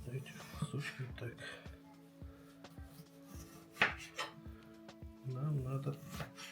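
Knife cutting food on a board while preparing Yakut delicacies, a few sharp, separate chopping knocks spread over several seconds, close by, amid kitchen background noise.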